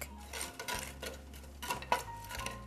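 A utensil scrapes and clinks against a skillet while garlic is sautéed, giving irregular metallic taps and scraping strokes over a faint low sizzle, close and fairly quiet.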